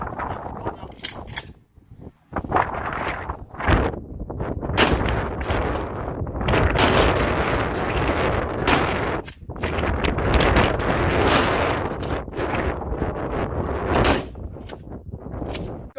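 Repeated loud gunshots at outdoor water jug targets, fired in rapid sets of about three, sharp cracks echoing over a steady background from roughly two seconds on, with no talk.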